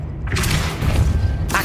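Depulso spell cast in the Hogwarts Legacy video game: a forceful booming blast with a thudding low-end, loud and continuous for over a second, ending in a bright burst.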